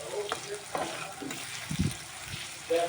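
Onion and garlic paste with spices frying in a pan, a soft sizzle with occasional stirring scrapes, close and moderately quiet.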